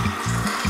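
Monster Energy drink poured from a can into a glass, giving a brief rhythmic glugging pour with two or three pulsing gulps, close and clear with no talk.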